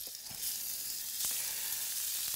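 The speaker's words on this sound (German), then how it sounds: "Jetzt packen wir das Rindfleisch da rein. Jawohl. Werden das leicht anbraten." Beef sears in a hot pan with a steady, fairly loud sizzle lasting throughout, broken by a few faint clinks and stirring knocks.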